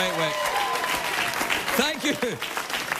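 Studio audience applause on a late-night talk show, sustained clapping with bits of speech and laughter poking through the steady wash.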